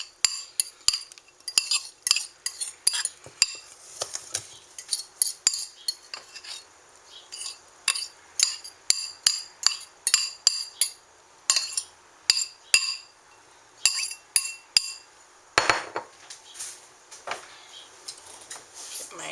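Corn fritter batter gets folded into beaten egg whites in a large bowl, with a steady run of light clinks and scrapes of a utensil against the bowl, close and fairly crisp, broken by brief pauses.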